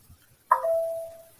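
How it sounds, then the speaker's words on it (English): A single bright electronic chime from a screen recording app confirming a finished recording, one clean tone that rings and slowly fades, alone and close. "You will hear this sound that will be a confirmation"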